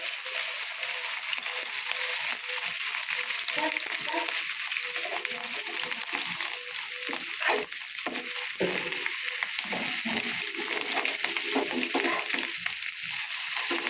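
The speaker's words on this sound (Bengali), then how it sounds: "এভাবে উল্টিয়ে পাল্টিয়ে একটু কড়া করে ভেজে নেবো" Fish roe fritters fry in hot oil as they are turned over, giving a continuous, even sizzle throughout with occasional soft stirring scrapes and no speech.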